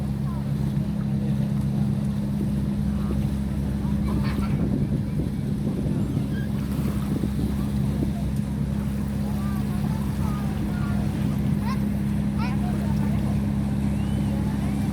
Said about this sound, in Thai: นั่งเรือเที่ยวเช่าเหมาลำแบบนี้ก็ได้นะคะ